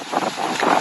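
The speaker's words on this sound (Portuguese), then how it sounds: "está um bocado de vento, por isso é que o mar também está um bocado picado" Steady wind buffets the microphone on a deserted island beach in Palawan, with choppy sea beneath it, a continuous rough rush with no voices.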